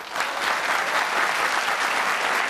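A television studio audience breaks into sustained, even applause, loud and dense with no voices over it.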